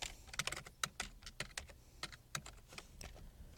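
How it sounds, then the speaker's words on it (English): Rapid typing on a computer keyboard while writing a letter, with a steady run of crisp, close key clicks in an uneven rhythm and no talking. "then I can type my letter and some more text"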